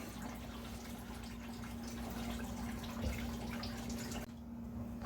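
Coolant draining from a Ford F150 EcoBoost engine after the water pump is pulled off: a steady liquid trickle and drip, fairly faint and continuous over a low hum, cutting off near the end.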